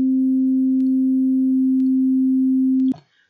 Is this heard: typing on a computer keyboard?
no